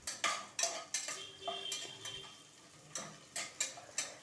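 Seven green chilies and three small chopped onions fry in a pan while a metal spoon stirs, scraping and clinking against it at irregular intervals over a faint sizzle, with no talking.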